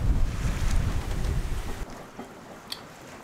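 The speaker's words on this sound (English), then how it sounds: "So now that we've got wind, we can steer off the hydro vane" Wind buffets the microphone while a sailboat runs under sail, a loud, rough rumble for nearly two seconds before it drops to a quieter whoosh with faint water sounds.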